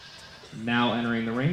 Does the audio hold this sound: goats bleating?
yes